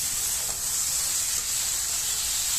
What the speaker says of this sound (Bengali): এটা আস্তে আস্তে ভাজি হইতেছে